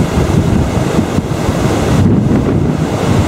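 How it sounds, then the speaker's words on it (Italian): Stormy sea off the Campania coast near Ischia and Capri, with heavy waves and strong wind buffeting the microphone, a loud continuous roar as a ship's bow plunges through the swell. "la traversata di una nave in balia delle onde e la cui prua entra ed esce dal mare in tempesta"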